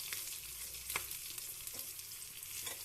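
Green chillies fry in a pan with a soft, continuous sizzle and occasional faint clicks of stirring, quiet and steady with no talking.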